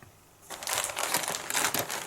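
A plastic bag holding model kit sprues crinkles and crackles loudly up close, starting after a brief quiet moment and continuing in bursts of rustling.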